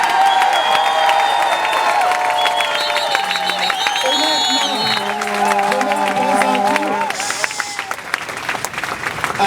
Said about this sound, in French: Applaudissez pas trop, c'est mes oreilles